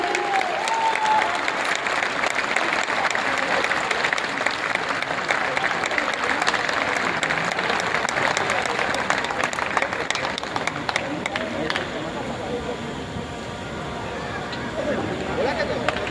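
Sustained applause from an audience at a Tercel Herbs company event in Raipur, a dense wash of clapping lasting the whole stretch and thinning slightly near the end, with crowd murmur and voices mixed in.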